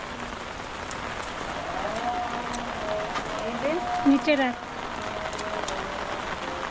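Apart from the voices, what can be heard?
heavy rain outside on rooftop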